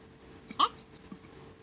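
A cartoon character hiccups once, a short loud squeaky hic with a fainter second hiccup about half a second later, alone against quiet background.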